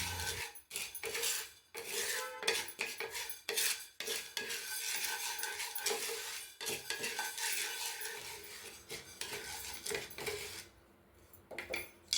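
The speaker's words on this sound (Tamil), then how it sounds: "100 கிராம் அளவு கடலைப்பருப்பு. இதையும் நல்லா மீடியம் ஃப்ளேமில் வச்சுட்டு நல்லா வாசனை வர வரைக்கும் வறுத்து எடுத்துக்கலாம்." Chana dal dry-roasting in a pan over medium flame while being stirred, the grains rattling and scraping against the metal in a steady, busy stream with repeated sharp clinks of the spoon, close up and without voices.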